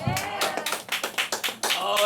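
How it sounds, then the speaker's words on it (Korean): A church congregation claps together for God in steady, quick rhythmic beats over about two seconds, with voices sounding through the clapping. "하나님께 박수 한번 쳐드릴까요?"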